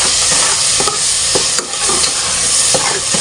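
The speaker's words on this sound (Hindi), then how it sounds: "मसाले को अच्छी तरह भून लेते हैं" Spices fry in ghee in a pan for a pea and egg curry, a steady loud sizzle with scraping stirs of a spoon at intervals, close up and without voices.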